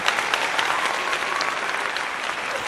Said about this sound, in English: you better put some applause on that